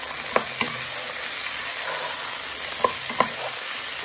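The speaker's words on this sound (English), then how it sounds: "Give them a nice coating with your onions, garlic and chorizo, and also that oil." Chickpeas stirred with onions, garlic and chorizo in oil, a constant bright sizzle broken by a few soft spoon scrapes and taps against the pan, no voices.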